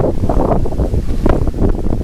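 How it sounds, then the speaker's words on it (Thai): Strong mountain wind on Khao Makhem roars steadily and loudly across the microphone, with a constant buffeting rumble and no break for the whole stretch. "อุ้ยเพื่อนๆฟังเสียงลมดิ ได้ยินไหม ลมแรงมาก"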